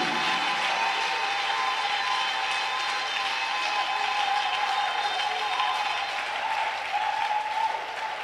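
A church congregation claps in praise during a service, giving dense, sustained applause from a large crowd that holds steady for several seconds.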